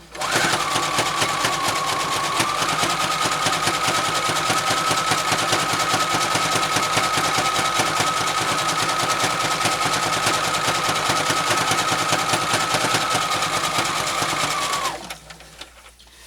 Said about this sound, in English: which your sewing machine may or may not be able to do